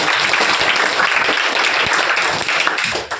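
Dense, steady applause from a crowd, continuous broadband clapping for about three seconds before tapering off slightly at the end.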